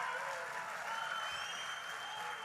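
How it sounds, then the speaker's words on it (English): A crowd cheering and applauding at a National Association of Counties legislative conference, a steady, dense wash of clapping and cheers filling the hall throughout. "That was a crowd."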